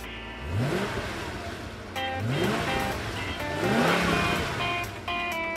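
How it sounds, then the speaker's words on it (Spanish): A sports car engine revs and accelerates in three rising sweeps, loud and close, with steady roaring noise underneath. "¡Soy el auto deportivo más rápido!"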